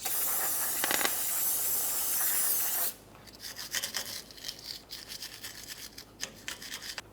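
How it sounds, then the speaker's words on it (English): An aerosol can of parts cleaner sprays a loud, steady hiss onto a 1994-2002 Ram 2500 rear brake hub for about three seconds, then a small wire brush scrubs the surface in quick, uneven scratchy strokes. "For this, we'll use some parts cleaner and a little wire brush."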